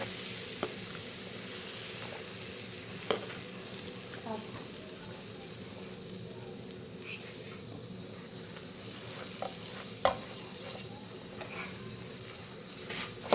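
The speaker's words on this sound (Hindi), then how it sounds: "इसके बाद इसमें हम डाल देंगे मैदा, इसको हमने भूनना है।" Flour roasting in melted butter in a pan as the base of a white sauce for chicken lasagna, a soft continuous frying sizzle with occasional spoon scrapes and light knocks against the pan.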